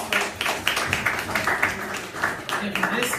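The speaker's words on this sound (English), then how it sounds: "Let's give a round of applause." Audience applause at an art critique event, a short burst of many hands clapping in quick irregular rhythm, moderately close and filling the moment alone.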